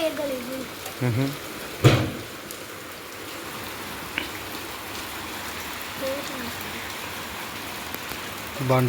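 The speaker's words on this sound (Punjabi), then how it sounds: "ਉਹ ਮੀਂਹ ਆਉਂਦਾ ਪਿਆ ਹੁਣ" Steady rain, with hail also coming down, falls as a continuous even hiss on surfaces outdoors, while brief voices come through at the start and end.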